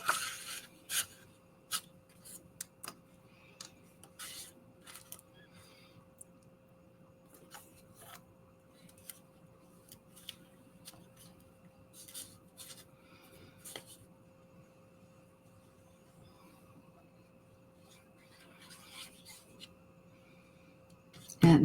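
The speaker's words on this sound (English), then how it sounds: "That noise you're hearing is my little refrigerator I have in my art space." A small refrigerator runs in an art space, giving a steady low electrical hum that continues throughout. Intermittent rustling, scraping and tapping from craft work sit over it.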